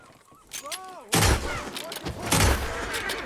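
Gunfire in Red Dead Redemption 2 during a raid, with two heavy bursts of shots and booming impacts, loud and close, following a brief rising whistle-like tone at the start.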